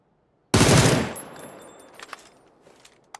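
A single loud, close AWM sniper rifle shot in PUBG cracks out sharply, then its echo trails off, with faint scattered clicks and thuds following.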